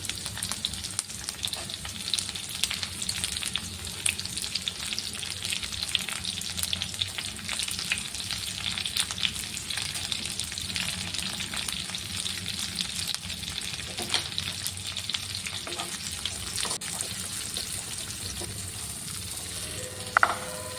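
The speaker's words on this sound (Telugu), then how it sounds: "తర్వాత మనం సన్నగా తరిగి పెట్టుకున్న ఈ ఆనియన్స్ కూడా ఇందులో వేసుకొని బాగా వేయించుకోవాలి." Finely chopped onions and curry leaves fry in hot oil for an egg puff filling, giving a loud, continuous close-up sizzle that crackles steadily throughout with occasional stirring scrapes.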